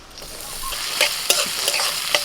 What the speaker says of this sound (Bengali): কড়াইতে সর্ষের তেল দিয়ে দিচ্ছি তেলের মধ্যে লঙ্কা পেঁয়াজ কুচানো দিয়ে দিচ্ছি